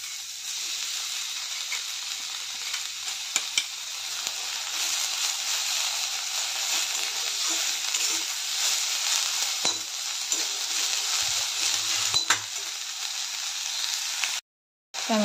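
Drumstick leaves fry in a pan with a continuous bright hiss and sizzle, loud and close, with occasional light scrapes and clicks of stirring, before a sudden brief cut near the end; no one speaks.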